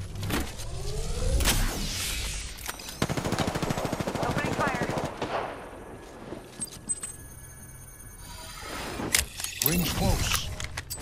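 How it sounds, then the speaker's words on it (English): Rapid automatic gunfire bursts in the battle royale game Apex Legends, loud and close, with single shots, mechanical clatter and whooshing ability effects between volleys, plus game sounds layered throughout. "Taking the shot. I'm getting shot."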